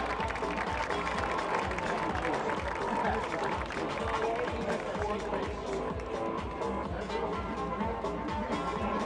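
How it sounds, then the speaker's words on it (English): Crowd applause and cheering fill the stands at halftime of a high school football game, St. Joseph Regional hosting Bergen Catholic. Dense, steady, and loud throughout, with rhythmic clapping and crowd noise spread evenly across the scene. "Let's give a big round of applause for the latest inductees into the Great American Rivalry Series Hall of Fame"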